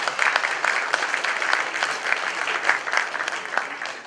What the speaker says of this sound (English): Please give him a round big applause.